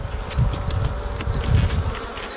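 A continuous close hum of honey bees around an open hive during a UK beekeeping inspection, loud and unbroken with slight swells in intensity.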